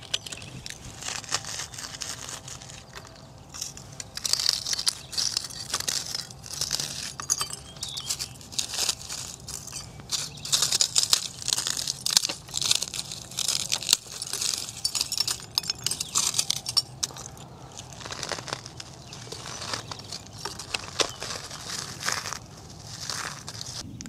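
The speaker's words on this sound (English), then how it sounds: "Let's see how each one sounds as we crumble it." Carbonized cake and brittle sugar glass pieces are crumbled by hand, giving a long run of dense crunching, crackling and glassy tinkling up close, rising and falling in intensity with no speech.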